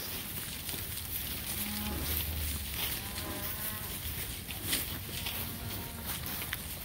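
Cattle in a rested grazing paddock moo in several long, low calls at moderate distance, set against steady outdoor wind noise and faint movement.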